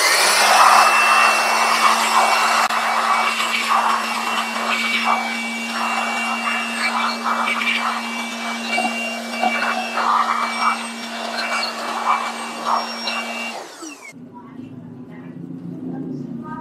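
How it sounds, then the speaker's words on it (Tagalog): A loud air blower hisses and whooshes steadily with a constant whine, blowing dust off Honda Click 125i scooter parts, cutting off abruptly near the end into quieter background noise. "Ang gagawin na lang natin is bugahan na lang natin siya ng blower"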